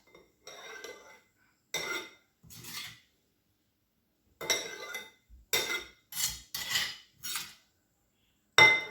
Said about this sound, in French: Après le piment, je vais écraser l'oignon.